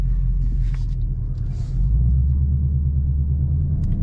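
A 2024 Ford Mustang GT with its V8 rumbling deep and steady close by, swelling slightly louder midway as the drive begins, no voices.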